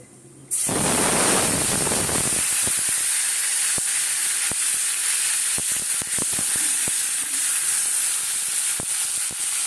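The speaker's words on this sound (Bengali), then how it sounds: "গোটা মশলা দিচ্ছি একটা এলাচ দিচ্ছি দারচিনি দুটো আর লবঙ্গ দুটো" Whole cardamom, cinnamon sticks and cloves hit a hot pan with an abrupt loud sizzle, which quickly settles into a steady hiss dotted with sharp crackles and pops.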